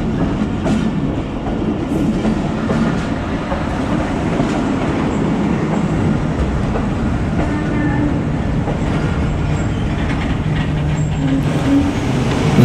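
A Mehar Express passenger train runs along the tracks, with a steady dense rumble and rattling wagons heard from on board, continuous and loud throughout, with faint clickety-clack.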